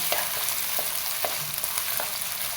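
Ginger and garlic frying in oil for a Kerala-style lemon pickle, a steady close hiss of sizzling with a few soft spoon scrapes and stirs breaking through at intervals.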